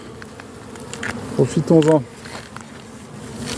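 Honeybees buzz around their hive colonies during a late-season check of the last honey super, a close, swelling drone that peaks briefly in the middle, while a voice speaks a few words.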